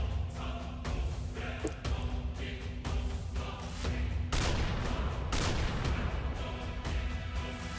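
Dense, continuous gunfire from a Minecraft roleplay game: a loud barrage of rapid, overlapping shots and blasts with no pause, growing harsher midway.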